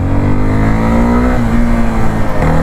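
A Suzuki Gixxer SF250 motorcycle accelerates hard in first gear, its engine note climbing steadily in a loud, close, continuous drone with no talk.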